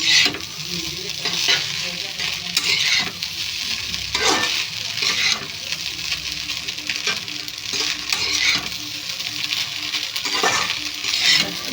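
Egg rice sizzles and fries in a pan while being stirred, with steady crackling and repeated scraping strokes throughout, no voices.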